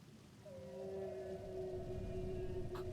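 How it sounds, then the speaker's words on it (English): Whale vocalization in the Final Fantasy XIV game, a long sustained tonal moan that swells in and holds steadily for a couple of seconds over a low ambient rumble, fairly faint and alone. "Whale noises."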